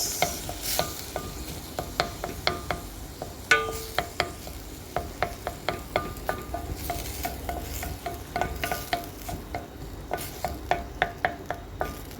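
Tomatoes being sautéed with onion and garlic in a pot for lentil (adas) soup, with a spoon stirring and scraping in a steady series of sharp clicks over a soft, continuous sizzle, close and moderately loud.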